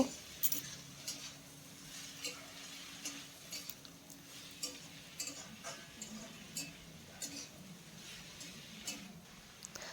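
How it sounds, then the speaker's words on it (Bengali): Fenugreek greens stirred and mixed in a pan, heard faintly: soft, regularly spaced scraping ticks over a quiet, low sizzle. "এইভাবে কিছু সময় নাড়াচাড়া করে মিশিয়ে নেব"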